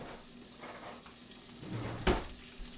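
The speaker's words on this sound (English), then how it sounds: "we're going to turn our steaks here. They've been cooking on one side for about 3-4 minutes now" Chicken fried steaks sizzle in a pan as they are turned, a steady frying crackle with a scrape and clunk of the utensil against the pan near the end.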